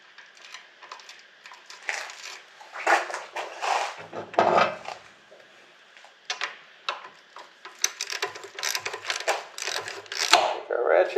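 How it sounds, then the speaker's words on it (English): A ratchet tightens a bolt on a Yamaha SR500 motorcycle, giving quick clicking pawl runs in short bursts, close by, with some handling noise. "Take our ratchet, tighten it down."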